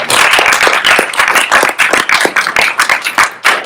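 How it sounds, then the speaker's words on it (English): A small audience gives a round of applause for guest Kate Cohen, with loud, close, distinct individual claps that thin out toward the end. "can we give Kate a round of applause?"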